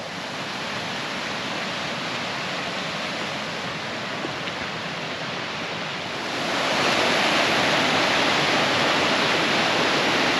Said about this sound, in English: the water coming out of Lake Marie is going this way